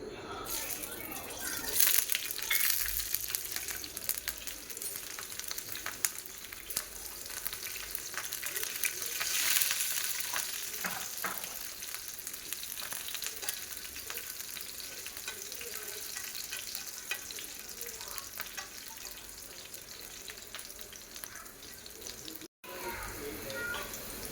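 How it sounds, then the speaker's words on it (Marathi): Green chillies fry in hot oil on a pan, a steady close sizzle running the whole time with some stirring noises and a voice talking at points over it. "सगळ्यात आधी आता इथे मिरच्या तळून घेते"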